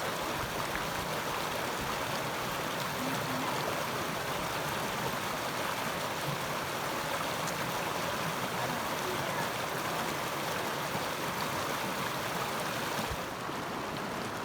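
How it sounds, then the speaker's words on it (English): A creek in the Wind River range rushing continuously nearby at a ford, a dense, steady wash of flowing water that stays loud throughout. "This is the biggest creek that we're gonna ford."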